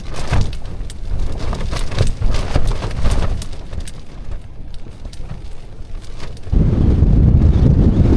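Strong wind gusts buffet the microphone at an outdoor wild camp with a low rumbling roar, easing slightly midway before a heavier gust swells up near the end.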